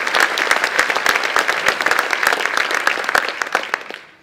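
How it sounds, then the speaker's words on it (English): A room full of people at the Georgian of the Year event applauds Georgia Trend magazine with loud, close, crisp clapping, individual claps standing out in the dense crowd before it dies away abruptly. "Can we give Georgia Trend a round of applause?"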